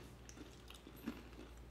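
Close, quiet chewing of warm, crunchy keto toasted pecans flavored with maple, cinnamon and vanilla, a few soft crunches and squishy bites spread over a short stretch.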